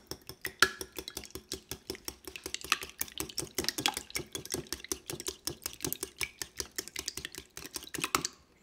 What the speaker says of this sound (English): And just whisk them up.